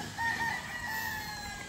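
A Boston Black rooster crows once, a drawn-out call rising and holding, fairly close against a faint background hiss.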